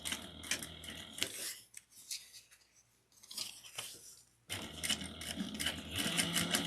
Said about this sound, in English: we're going to sew down the sides but not close off the bottom